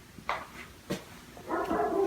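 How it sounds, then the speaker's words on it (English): A dog barks a few separate times indoors in a house, moderately near, with short sharp barks followed by a longer stretch of whining, yelping sounds. "dog barking"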